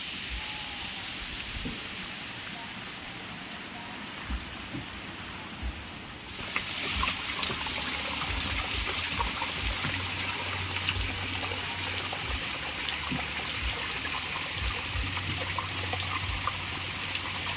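Water falls at Palaruvi waterfall and rushes continuously, quieter at first and then swelling to a fuller, steady roar that carries on with no talking.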